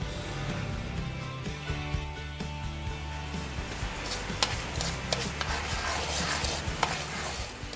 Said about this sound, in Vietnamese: Đầu tiên bạn cho 100g muối vào chảo rang đến khi muối săn lại